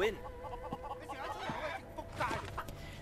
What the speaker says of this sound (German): Boah, das sind ja richtig geschulte Hühner hier